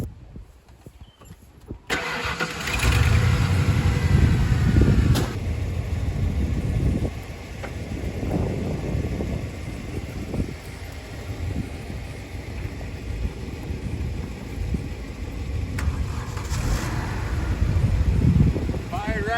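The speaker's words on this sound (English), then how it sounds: "It might go if I rev it up." A ten-dollar car's engine cranks and starts after a short quiet stretch, then runs loud and rough, with the revving rising and falling. People talk over it at times.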